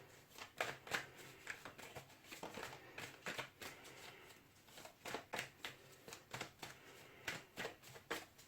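Tarot cards are shuffled for a reading in steady, quick riffling bursts of papery flutter and soft slaps, repeating close by and fairly quiet, with no talking.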